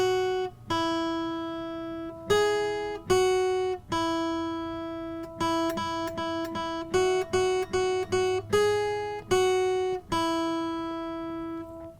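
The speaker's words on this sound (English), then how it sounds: "It's Three Blind Mice, and it sounds like this." Three Blind Mice picked note by note on a single string of a beginner's guitar, clean plucked tones at a steady, simple pace, some notes repeated quickly in small bursts, with no voices.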